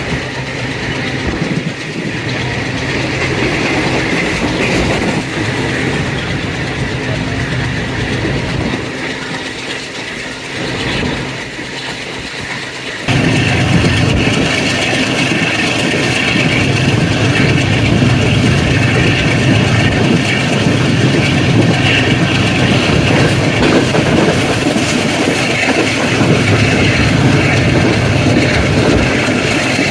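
Blue Tiger AG30 diesel locomotive hauling the 25UP Zakria Express toward Hyderabad Junction at night, heard from inside the train as a steady, loud rumble with rail clatter and engine drone throughout, growing fuller midway.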